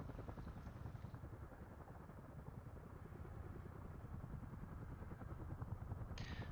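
Rotor and engine drone of a helicopter in a video game with a waypoint-driven transport drop, a steady, continuous loud whir with rhythmic chopping texture throughout, no voices.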